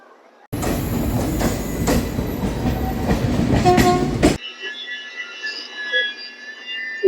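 A Madgaon Express passenger train rumbles loudly past at night for several seconds with a dense rattling clatter, then cuts to a quieter, steady mechanical hum with faint tones.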